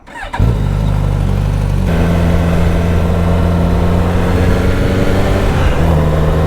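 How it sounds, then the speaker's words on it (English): Suzuki GSX-S1000GT motorcycle's 150 bhp inline-four engine fires up and pulls away, a loud, steady multi-harmonic drone with a pitch shift as it accelerates through the gears, close and continuous with no talk. "already I can feel the urgency of that inline 4 engine, which chucks out 150 brake horsepower"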